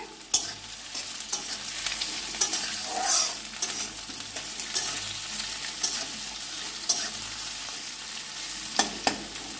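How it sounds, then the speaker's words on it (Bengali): Onion sizzles steadily in hot oil as it browns to a reddish colour, with frequent stirring scrapes and a few sharp utensil taps against the pan, close and unbroken, no talking. "পেঁয়াজটা একটু লালচে করে ভেজে তারপরে আমি আলু দেবো"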